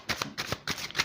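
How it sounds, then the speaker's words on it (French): Tarot cards are drawn and shuffled by hand in a short, close burst of crisp riffling flicks and soft slaps, quiet and with no talking. "je vais prendre déjà 5 cartes"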